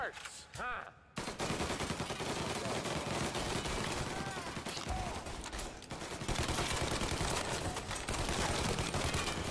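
Automatic weapon fire in the game Mafia: Definitive Edition, with rapid, sustained bursts of gunshots running almost continuously over a busy combat backdrop and brief pauses between volleys.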